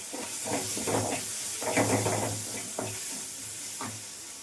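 A tomato and onion masala sizzles and steams in a pan while being stirred, with repeated rhythmic scraping strokes over a steady close hiss.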